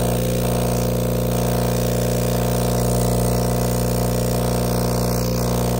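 A Resun electromagnetic aquarium air pump, a high-output model for large tanks and fish farms, hums steadily and loudly throughout with a constant buzzing drone and no pauses.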